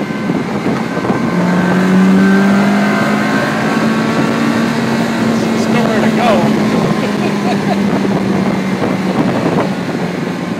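A loud car engine drones steadily and its pitch climbs as it revs through a gear change into third, with wind noise and someone talking over it.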